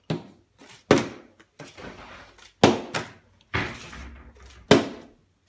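A partly filled plastic water bottle is flipped repeatedly and lands with close, hollow thunks: about five sharp impacts at irregular intervals, with softer scuffing and rattling between them and no speech.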